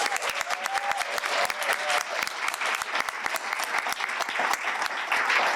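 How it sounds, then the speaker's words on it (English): Audience applause for guests at a peacebuilding event, dense overlapping claps with sharp individual hand strikes standing out, steady and fairly close throughout. "Can we give one more round of applause to our esteemed guests?"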